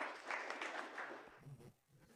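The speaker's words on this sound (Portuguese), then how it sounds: "Uma grande salva de palmas para o nosso prefeito por ter vindo aqui" Small gathering at a mosque applauding the visiting mayor, a brief faint burst of clapping that dies away within a couple of seconds, with low murmuring voices at the end.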